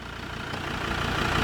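A 2017 Ford Ranger Wildtrak's 3.2 litre five-cylinder turbo diesel idles steadily nearby, a low rumbling drone that grows slightly louder over the short stretch, with no talking.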